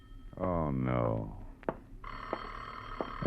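An old-time telephone rings twice in a classic radio detective drama, each ring a bright sustained bell after a man's brief spoken exclamation, loud and close.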